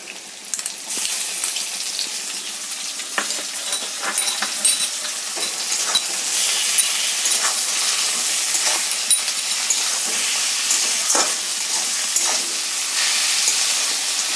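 Chopped tomato sizzles steadily in a pan while being stirred for lote fish jhuri, a continuous close frying hiss broken by scattered scraping clicks of the spoon, with no talking.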